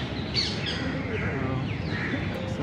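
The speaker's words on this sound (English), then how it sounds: "So some parakeets flying over there." Parakeets call as they fly over the Hauz Khas rose garden in Delhi, giving a few shrill chirps and squawks over a busy outdoor background with faint voices.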